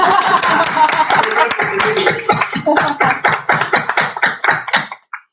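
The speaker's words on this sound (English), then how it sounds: "How about a round of applause?" A small group at a regular commission meeting claps in a plainly heard round of applause. The claps start dense and loud, then thin into separate, decaying claps before stopping.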